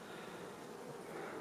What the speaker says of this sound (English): just bees kind of walking around hanging out